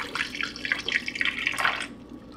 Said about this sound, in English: So I'll pour it back into the jar.